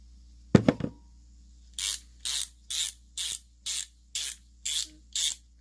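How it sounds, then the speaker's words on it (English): Several short spray hisses from a WD-40 aerosol can into a Stanley pass-through ratchet, about eight bursts in a steady rhythm, close by, after a brief metallic rattle at the start. "I can spray WD-40 in this tool."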